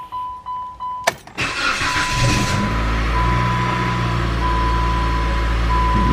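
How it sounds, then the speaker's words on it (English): A 2010 Dodge Caliber RT starting from cold: a brief starter crank, then the engine catches and settles into a steady, fairly loud idle close by, preceded by a few soft chimes. "let's go ahead and get this little cold start of the car"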